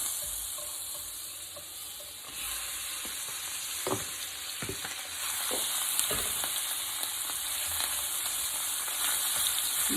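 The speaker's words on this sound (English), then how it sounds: "We're going to blacken our shrimp." Shrimp sizzle and fry in melted butter in a hot pan while being blackened, giving a steady hiss that swells louder partway through, with scattered pops, spatters and the clink of a utensil stirring.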